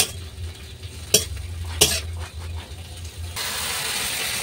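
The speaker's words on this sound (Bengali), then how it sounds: "ধনে পাতাটাই তেলের মধ্যে আমি দিয়ে দিলাম। এরপর আমি ভালো করে নাড়িয়ে নিব।" Coriander leaves frying in hot oil while being stirred, a low sizzle under sharp metallic clinks and scrapes of a utensil against the pan, with a brighter hiss rising toward the end, no voices.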